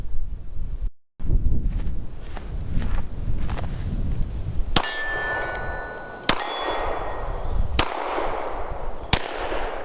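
A GForce RPX9 Exodus pistol fires outdoors, with four sharp, loud reports spaced a second or two apart over low wind rumble. Each shot is followed by a ringing metallic clang from a struck steel target.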